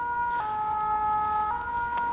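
A fire engine siren holds a loud, steady tone that shifts pitch twice, with a brief sharp jump in the middle and light traffic noise underneath.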